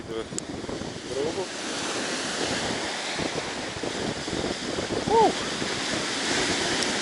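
Winter waves wash steadily onto the Black Sea shore during shore fishing, a continuous rushing surf mixed with buffeting wind on the microphone, with a couple of faint high chirps on top.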